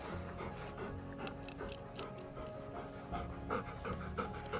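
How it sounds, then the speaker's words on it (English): A puppy pants steadily up close, a rapid rhythmic huffing with a few small whimpers mixed in, mostly alone with only faint background sound. "here's our puppy."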